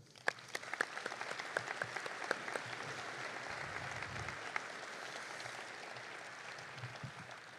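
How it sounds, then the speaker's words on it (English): A high school commencement audience applauds for the whole stretch, a dense sustained clapping with a few sharper individual claps standing out, heard from within a large hall crowd. "please join me in a big old round of applause"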